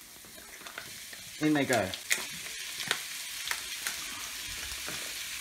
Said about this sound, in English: Now, add your bacon lardons.